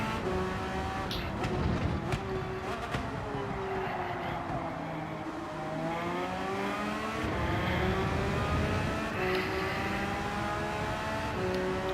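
Race cars in a racing video game at the start of a manufacturer's cup race, engines whining and shifting up through the gears in overlapping tones, with a sharp knock early on, moderately loud and continuous.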